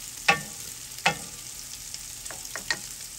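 Sausage cooks in a pan, with quiet background sizzle and a few sharp scraping clicks of a utensil stirring it at irregular intervals.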